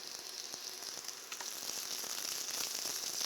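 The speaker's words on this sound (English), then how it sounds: "A little bit of olive oil and or butter. Shallots or onions going in." Shallots hiss and sizzle in olive oil and butter over moderate heat, a close, continuous crackling fry that grows slightly denser as it goes on.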